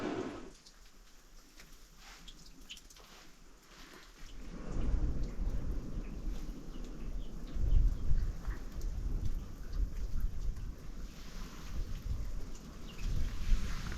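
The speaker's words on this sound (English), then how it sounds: "It's still raining a little bit now." Rain and wind beat on an exposed rock-shelf wild camp on Mt Anne, Tasmania. A steady hiss with low rumbling grows noticeably heavier and louder after the first few seconds, and no one speaks.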